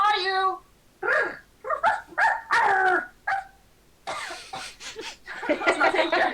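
A person vocally imitates a wolf barking during a tabletop dice game session, giving several short, loud yelping barks in bursts, with other people's voices and laughter mixed in around them.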